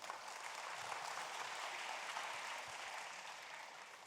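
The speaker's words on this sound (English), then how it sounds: "Big round of applause." Audience applause fills an economic forum hall on knowledge economy, a steady, fairly distant wash of clapping that holds evenly throughout with no voices.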